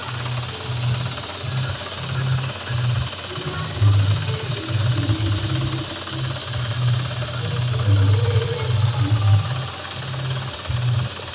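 A borewell drilling rig bores at a house in Lakshminagar, Virudhunagar, with a steady low mechanical rumble broken by rhythmic chugging pulses over continuous engine noise.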